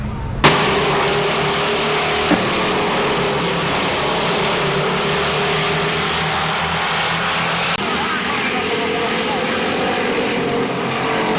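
Stock cars racing at Thunder Road, a loud, sustained engine roar with a shifting pitch as cars pass close by, sharp onsets and cutoffs, and a voice heard under the noise.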